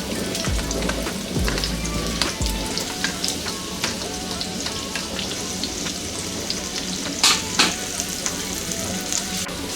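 Medium-size sliced onion frying in a kadai for okra chutney, giving a steady, close crackling sizzle with scattered pops and a few scraping stirs, with no voices.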